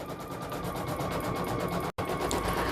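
A single needle embroidery machine stitches out a design on a child's sweatshirt, with a fast steady mechanical rattle that breaks off for a brief moment before carrying on.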